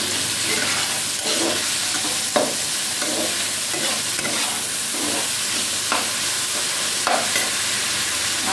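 Potatoes, pointed gourd and carrots sizzling in hot oil with salt, a steady loud frying hiss broken by several stirring scrapes, with no talking.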